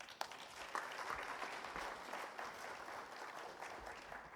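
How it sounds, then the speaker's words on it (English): A round of applause fills the hall at a construction industry awards ceremony, steady dense clapping from a large audience throughout, fairly faint and distant. "Can we hear a round of applause for him?"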